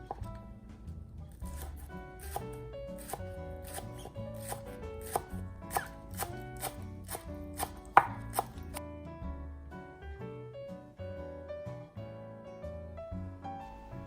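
Quick, steady knife chops slice through green onion leaves on a board, preparing a Thai coconut milk custard, over soft background music; the chopping stops partway and the music carries on alone.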